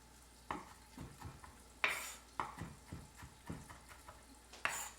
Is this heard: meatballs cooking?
yes